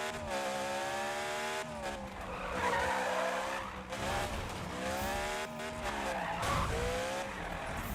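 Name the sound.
car tires skidding in video game Need for Speed 2015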